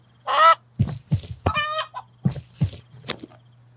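Chickens in Estate Agent Simulator cluck and squawk in quick, close bursts, one drawn-out cackle followed by a string of short clucks, with no speech.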